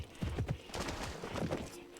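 Horse in the video game Pippa Funnell Ranch Rescue, with steady clip-clop hoofbeats and a brief whinny-like call, moderately loud and close throughout two seconds.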